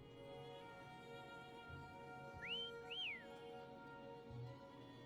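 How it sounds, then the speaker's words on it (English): Two short rising whistles, like a call, are blown to summon Foam in the video game Wuthering Waves, clear and close over a quiet ambient background hum. "Try whistling."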